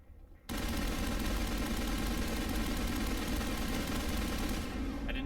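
Sustained automatic gunfire in the video game Mass Effect Legendary Edition, a loud continuous burst of rapid shots that begins abruptly after a short quiet moment and keeps up without a break.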